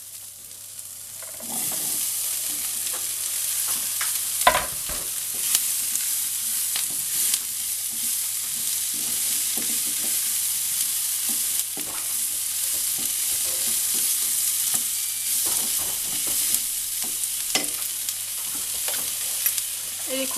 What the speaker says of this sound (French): Je vais ajouter les poivrons.